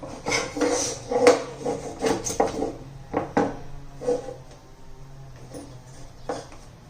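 Cabbage being grated into long thin strips for a Malvani-style cabbage vegetable dish, heard as irregular scraping and knocking strokes against the grater, fairly close, tapering to quieter strokes toward the end with no talking.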